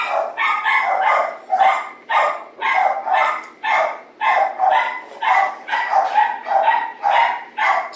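A dog barks over and over in a steady, close run of loud barks, heard alone with no talking.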